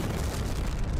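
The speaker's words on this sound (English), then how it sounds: "what was that explosion?" A loud, sustained explosion rumbles through a scene in the Bleach anime: dense, roaring broadband noise that holds steady for about a second without a break, with no speech.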